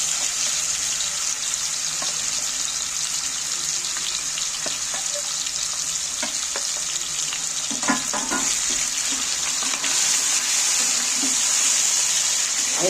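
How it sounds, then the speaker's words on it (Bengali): Chicken marinated in yogurt frying in oil, a steady hiss and sizzle throughout with occasional soft scrapes and knocks of stirring, close and continuous with no talking. "এবারে তেলের মধ্যে আমি একটু নাড়াচাড়া করে নিচ্ছি"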